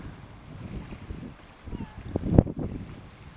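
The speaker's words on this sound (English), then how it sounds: "Wind coming straight up the lock." Wind blowing up a loch on the Scottish coast, a rough gusty rumble battering the microphone, swelling into a strong blast near the end with no talk.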